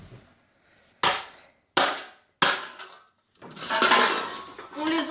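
Empty drink cans crushed one after another: three sharp metallic crunches spaced about a second apart, then a longer crumpling, rattling burst of aluminium, loud and close.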